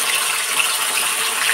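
Water is poured into a cooking pan after cumin tempering and spices for a fish curry, giving a steady bright hiss and gush that stays even and close for a moment with no talk.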